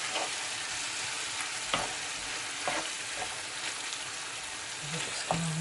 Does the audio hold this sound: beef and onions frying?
yes